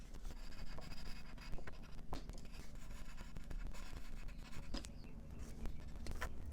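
A crayon or marker rubs and scratches across paper cards in faint, continuous strokes with small irregular ticks, close by and quiet.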